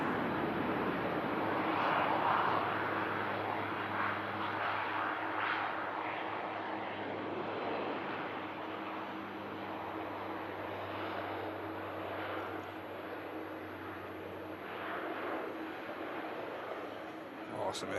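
A Luxair Dash 8 turboprop rolls for takeoff at Manchester Airport in thick fog, a steady distant propeller drone and engine roar building over eighteen seconds while someone talks over it.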